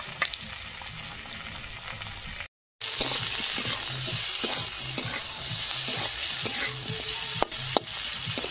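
Onion, tomato, ginger, garlic, cashews and green and dried chilies lightly frying in a pan, with a continuous sizzle and repeated spatula scrapes and knocks, near and steady after a brief silent gap, no talk.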